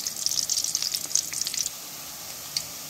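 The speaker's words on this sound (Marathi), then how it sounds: "कांदा आपला लालसर भाजत आला." Onions fry in a pan until reddish, giving a bright, crackling sizzle with busy popping that thins out to a quieter, steady hiss after a moment.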